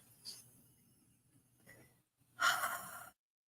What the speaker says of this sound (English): And taking a deep breath.